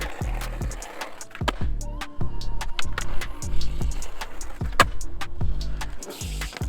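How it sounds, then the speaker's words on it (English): A skateboard rolling up and grinding a ledge in a crooked grind, with repeated hard clacks and scraping wheel rumble, loud and close, no talk. "Let's get a crooked grind."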